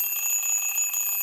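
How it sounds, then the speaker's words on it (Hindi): A small alarm clock rings with a steady, shrill electronic tone, continuous and close throughout the brief moment, with no talk over it. "इसमें अभी 7 बजा के मैं आपको अलार्म बजा के दिखा रही हूँ"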